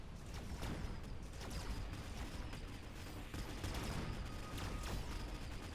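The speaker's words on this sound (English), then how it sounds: "Stormcaller shots landing, taking out a lot of mustangs" Rapid Stormcaller weapon fire in the strategy game Mechabellum, a dense, continuous barrage of overlapping shots and impacts against massed Mustang units, steady and loud across the whole stretch with no talking.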